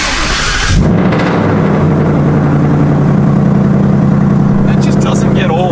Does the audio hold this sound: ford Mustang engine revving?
yes